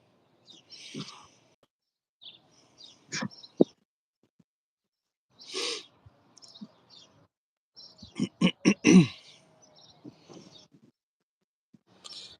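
Birds in a young backyard tree give scattered chirps, trills and short bursts of calls, including a rapid series of sharp notes, spaced by quiet gaps, fairly close and clear with no talking.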